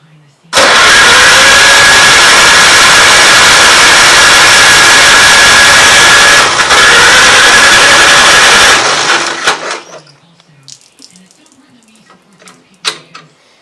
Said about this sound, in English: I'm going to choke it this time to start with